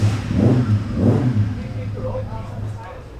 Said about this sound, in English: The novelty of the rotary Norton engine never ceases to amaze.